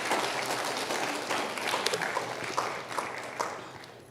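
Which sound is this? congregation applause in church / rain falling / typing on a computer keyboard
congregation applause in church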